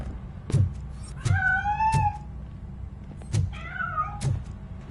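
Several meows from a cat in a video game, rising and falling tonal cries spaced between soft thuds, with a quiet room-like background and no talking.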